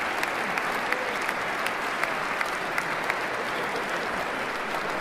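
Sustained applause from a large crowd at an inauguration-day event, steady dense clapping with occasional sharper claps standing out, filling the whole stretch without speech on top.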